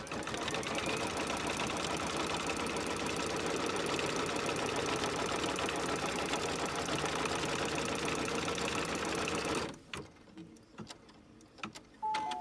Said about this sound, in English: now it's going to stitch a placement line all the way across the bib